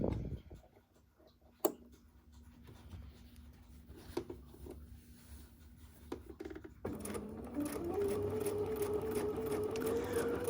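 A sewing machine stitching patchwork near the presser foot starts up after a few handling clicks and quiet rustles, then runs steadily with a rising whirring hum, close and moderately loud.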